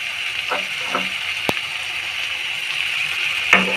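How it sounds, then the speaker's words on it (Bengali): Masala paste for a bhetki fish bhuna sizzling as it is sautéed with a little water, a continuous bright frying hiss with a few sharp utensil clicks. "দিয়ে আমি মশলাটা ভালোভাবে কষিয়ে নেব"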